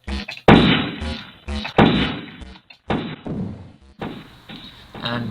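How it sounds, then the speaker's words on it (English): Explosion sound effect from a Pygame video game, heard as a series of repeated loud bursts with sharp onsets that decay quickly, about five hits spread across a few seconds with short gaps between them. "now we'll actually see the explosion."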